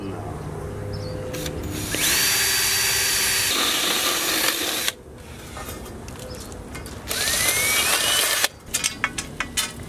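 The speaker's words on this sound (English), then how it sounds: "Then we're going to drill some holes on either side." A power drill bores holes for a homemade Halloween decoration, with two long loud whirring bursts separated by a quieter stretch, followed by a few short clicks and knocks at the end.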